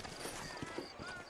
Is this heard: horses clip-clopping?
yes